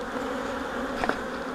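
Honey bees buzzing inside a hive, a dense steady hum close by with a couple of brief louder buzzes near the end, no voices.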